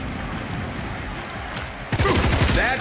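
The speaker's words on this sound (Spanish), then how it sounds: "Y ahora voy a intentar disparar." Gunfire from shooting in the video game Showgunners: a dense, loud burst of shots breaks in partway through, following quieter game noise.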